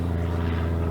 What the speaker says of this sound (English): Airplanes. We live near an airport,